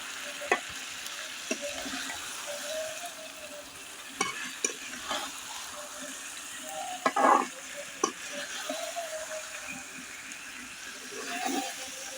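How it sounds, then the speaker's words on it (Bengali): Hilsa fish sautéing with red mustard and spices in a pan, a steady low sizzle broken by occasional scrapes and clinks of a stirring utensil, close and quiet. "এইভাবে মাছটা মশলাটা সরিষাগুলো সব একসাথে আমি কিছুক্ষণ কষিয়ে নেব"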